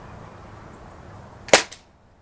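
A single sharp, close crack comes from a Gamo Swarm .22 air rifle firing a pellet at a target, followed by a quick fainter echo-like snap, against a quiet background.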